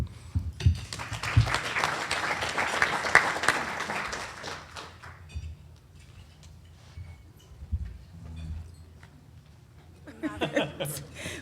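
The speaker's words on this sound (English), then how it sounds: "Please give him a round of applause." Audience applause in a meeting room after a talk on a minimum wage amendment, a dense burst of clapping for a few seconds that fades out, followed by quieter room noise and a brief return of clapping near the end.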